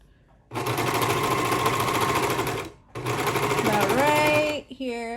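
A serger sewing machine stitches fabric in two loud, fast, rattling runs separated by a brief pause, close up, with a voice speaking over the end of the second run.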